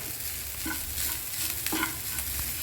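Grated coconut is lightly roasted in a pan, giving a soft steady sizzle with occasional scraping stirs, close and fairly quiet.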